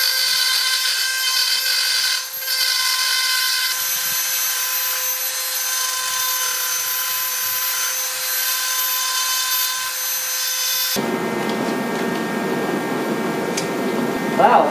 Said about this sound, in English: is my Dremel with a drywall bit.